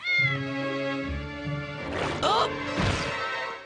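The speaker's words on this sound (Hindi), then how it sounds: "हिचकियों के साथ बिल्ली निकल रही है" A cartoon cat with hiccups lets out loud, drawn-out meows, followed by a crash and more yowling, with cartoon voices mixed in.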